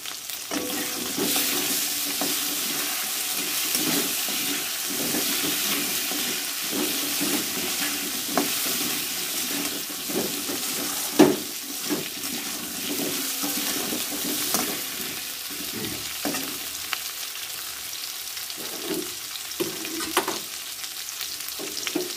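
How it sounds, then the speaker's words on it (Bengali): Fish pieces with potato frying in a pan with salt and turmeric, a continuous close sizzle with irregular scrapes and clacks of a spatula stirring throughout, no voices. "প্রয়োজন মতো হলুদ দেব, দিয়ে এটাকে আরো কিছুক্ষণ ভালো করে ভেজে নেব"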